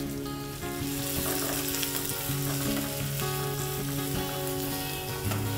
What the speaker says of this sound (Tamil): ஆனியன் நமக்கு நல்லா ஃப்ரை ஆயிடுச்சா? ஆனியன் நல்லா ஃப்ரை ஆயிடுச்சு.